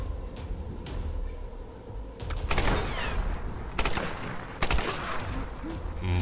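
Rapid bursts of gunfire in the video game Tomb Raider crackle in quick volleys, fairly loud, with some echoing impacts between shots.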